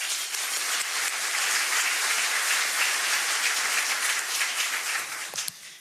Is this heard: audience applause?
yes